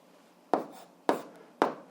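A pen writes out an answer to a 7th-grade algebra exercise, making three short, crisp strokes at an even pace, each one quickly fading, close and alone over quiet.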